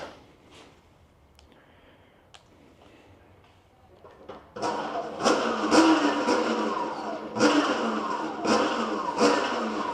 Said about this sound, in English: we're gonna go ahead and turn the bike on and test out our throttle